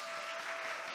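Dense, steady applause from a congregation fills a church hall during a Sunday worship service, continuous and fairly loud throughout.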